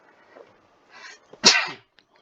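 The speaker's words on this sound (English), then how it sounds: "Hang on, need to sneeze." A single person sneezes mid-drive while playing a Norway map in GeoGuessr, with a soft inhale buildup followed by one sharp, loud sneeze close to the mic.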